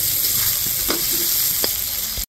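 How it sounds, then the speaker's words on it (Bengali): Thinly sliced onions fry in hot oil with a steady, close sizzle, broken by a few scraping clinks as they are stirred in the pan. "পেঁয়াজটা দিয়ে দিব তেলের মধ্যে। পেঁয়াজটা খুব ভালো করে নাড়াচাড়া করে নেব।"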